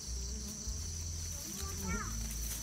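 A fly buzzes in a steady, thin, high drone that runs throughout, with a low hum beneath it and faint voice-like sounds partway through.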